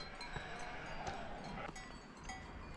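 Sheep bleating on a mountain trail in the Swiss Alps, a few soft bleats over steady outdoor ambience with faint cowbell-like clinks, the animals fairly close and no one talking.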